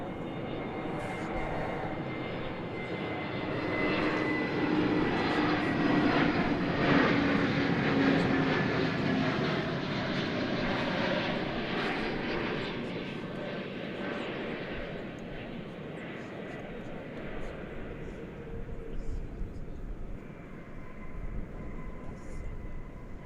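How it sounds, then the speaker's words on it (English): An Airbus A321neo airliner landing at Dallas Fort Worth Airport, giving a steady, distant engine roar and rushing whine that swells and slowly fades over about twenty seconds. "That's an Airbus A321neo."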